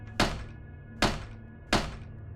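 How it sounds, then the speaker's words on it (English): Three loud, heavy thuds strike a door as if it is being kicked, each a sharp impact with a brief boomy decay, spaced about three-quarters of a second apart in an otherwise quiet room. "3 loud bangs against the door as if someone was trying to kick it in."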